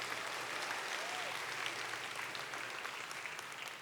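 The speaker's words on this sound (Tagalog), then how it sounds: "Kusgon daw natong palakpak ang Diyos be." Church congregation applauding during a Sunday celebration service, a steady wash of clapping from a crowd, fairly faint and distant, sustained without a break.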